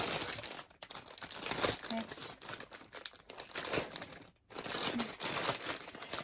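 Glossy paper printed with a cross-stitch pattern crinkles and rustles loudly and continuously up close, with brief pauses and a voice speaking softly beneath the handling noise.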